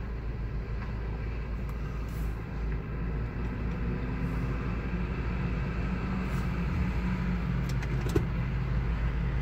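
A truck carrying racing pigeons for a competition release drives away through a gate, its engine a steady low rumble that holds loud and even throughout.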